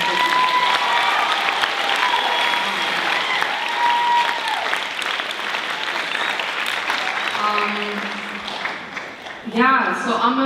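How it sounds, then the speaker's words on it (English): Audience applause after a poetry performance at a poetry festival: loud, dense clapping fills the room throughout, easing slightly before a voice starts speaking at the very end. "I think we can clap for him again."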